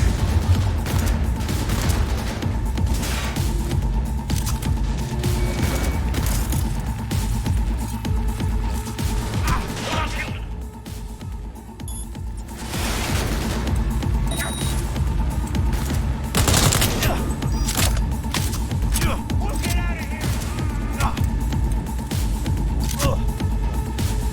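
Sustained video game gunfire rattles almost continuously, loud and dense with rapid bursts, easing briefly in the middle before resuming at full intensity.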